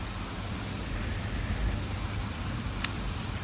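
Rain falls steadily during a thunderstorm, a constant close hiss with a low rumbling undertone and a few faint sharper ticks.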